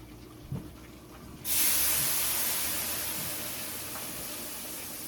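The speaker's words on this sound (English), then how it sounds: "now I got the water. Now what I'm gonna do is I'm gonna push this out the way a little, and it's gonna steam up" Water hits a hot pan of pork chops and bursts into a loud, sudden hiss of steam that slowly fades over several seconds, preceded by a few quiet clinks.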